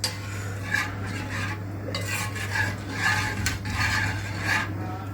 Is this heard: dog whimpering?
no